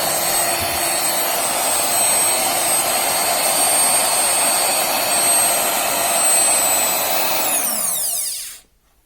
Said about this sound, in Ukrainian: Ось такий досить потужний, недорогий місер для збивання.